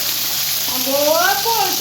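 An egg pancake with masala fries in oil in a pan, giving a steady, close sizzle while someone speaks over it.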